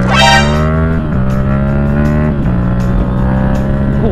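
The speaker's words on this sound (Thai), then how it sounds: "เดี๋ยวลองเปิดกระแทกเกียร์หนึ่งเดี๋ยวดิว่ามันจะแบบแรงขนาดไหน" A Yamaha MT-07 motorcycle launches hard in first gear, its engine roaring loud and close as revs climb steeply, briefly dip at each surge, then climb again in a sustained, rising howl.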